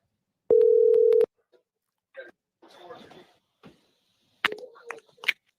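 A telephone tone sounds while a caller is being called back, a single steady beep lasting under a second, followed by scattered short noises and brief voice fragments.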